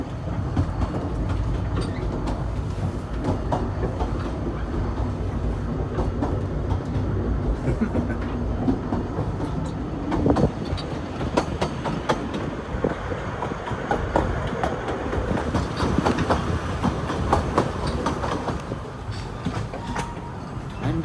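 A Lakeside Railway carriage beside Lake Padarn, Wales, rumbles along the track with a continuous low roar, occasional clacks and rattles from the wheels over rail joints.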